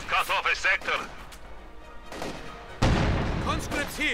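A rocket barrage in the video game Company of Heroes 2 erupts into a loud, sustained rumbling roar of blasts after a stretch of battlefield noise, with a commentator speaking over the start.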